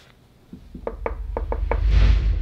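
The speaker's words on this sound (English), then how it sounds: "Knock on wood." Five or six sharp knocks on wood in an irregular rhythm, close and fairly loud, followed by a rising rustle of handling noise.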